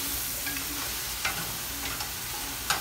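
Tomatoes frying in a pan with steady close sizzling and a few brief scrapes of stirring, no one speaking.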